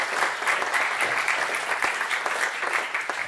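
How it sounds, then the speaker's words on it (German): An audience at a German media talk event gives a warm round of applause, thick, even clapping sustained throughout with no voices on top. "Erstmal kriegst du einen Applaus hier."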